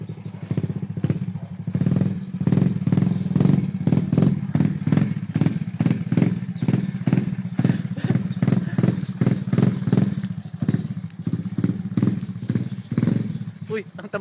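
A motorcycle engine and exhaust thump in a rapid, pulsing rhythm close by. Voices are heard over the loud, steady engine.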